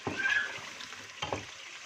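Mutton and masala fry in a pot for aloo gosht, with a steady sizzle broken by two bursts of stirring scrapes.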